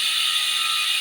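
Bicycle rear hub ratchet with six pawls and a 72-tooth ratchet ring, buzzing as a fast, dense, continuous clicking whir at close range, alone and steady throughout.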